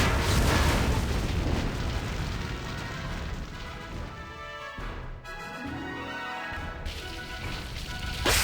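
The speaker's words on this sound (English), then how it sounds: "The gas pump exploded." A gas pump at the Fill and Fly station in a Planes 2 story game explodes in a loud, sustained boom with rumbling debris and crackle, dipping briefly before the roar continues.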